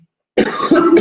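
A single sharp, close cough from a man seated in an office. It comes after a moment of silence, is loud, and ends with a short rough rasp.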